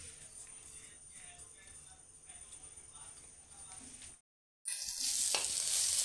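Beaten egg goes into hot white oil in a wok for egg chowmein, giving a low crackling fry under quiet clattering, then a brief silence and a sudden loud burst of hissing sizzle.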